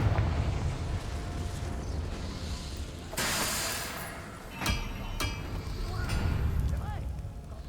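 A Confringo blasting spell goes off in Hogwarts Legacy: a sudden whooshing burst followed by crackling blasts and a rumbling tail, all over continuous game ambience and music.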